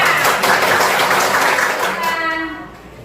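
A short burst of clapping from a group in a classroom after a presentation, fading out after a couple of seconds.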